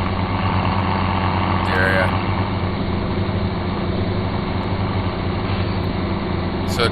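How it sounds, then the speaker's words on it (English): A tractor engine in Farming Simulator 17 drones steadily for the whole stretch, a low harmonic hum that stays even and fairly loud while driving at up to about 26 mph, with a couple of faint incidental clicks. "So 26 miles per hour is the fastest we can go with this tractor."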